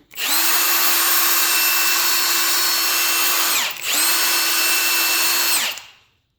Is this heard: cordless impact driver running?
yes